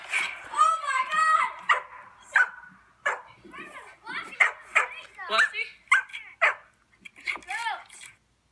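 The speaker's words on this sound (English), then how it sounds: "Jason, that's where they bark." Dogs bark, yip and whimper up close in a quick, irregular string of sharp bursts separated by short silences.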